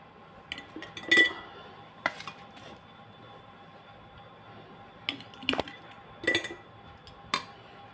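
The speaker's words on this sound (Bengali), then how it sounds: "আমি এবার বয়েমের মধ্যে ঢেলে দেবো এরকম করে হাতা দিয়ে" A ladle clinks and scrapes against a pot and jar while mango oil pickle is poured in, giving scattered sharp metallic and glassy knocks between quieter wet stretches, close by with no talking.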